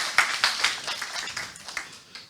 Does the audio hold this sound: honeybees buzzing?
no